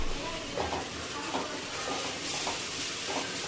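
Dry fish curry masala with salt fries in a pan, a soft hissing sizzle with light, regular stirring scrapes at roughly one-second intervals.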